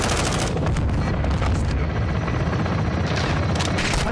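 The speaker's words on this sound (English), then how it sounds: "Taking belt-fed fire from beneath the tower." Belt-fed machine gun fire in Call of Duty, loud and sustained, with continuous rapid bursts and booming impacts running through the whole stretch and no pauses.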